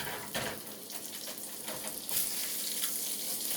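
Plant-based patties sizzle and hiss steadily in a hot pan as they are flipped, with a brief spatula scrape and a louder burst of frying midway, close and continuous.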